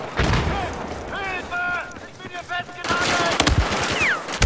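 Gunfire bursts in Battlefield 4 multiplayer on the Zavod 311 map: loud broadband shots and rattling bursts mixed with game effects, with someone talking over parts of it.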